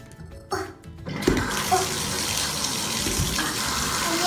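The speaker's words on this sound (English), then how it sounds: "So I'm gonna start the bath." A bathtub filling from the tap: after a few brief knocks and handling sounds, water gushes in and settles into a steady, loud rushing stream that continues to the end.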